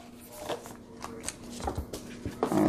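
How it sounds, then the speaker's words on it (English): Animal Allies oracle cards being ruffle-shuffled, giving several quick papery riffling bursts with soft pauses between them and a louder final flurry, close and moderately quiet. "it ruffles shuffles like a dream"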